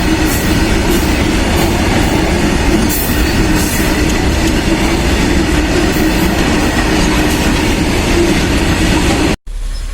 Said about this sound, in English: you can see the train passing